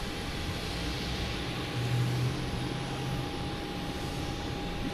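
A Play airline jet taxis at Boston Logan Airport, giving a steady, distant engine roar with a thin high whine over it. The roar swells a little partway through and holds at a moderate, even level.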